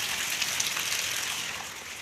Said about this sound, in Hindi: मैं देखो बाहर हो रही है बहुत तेज बारिश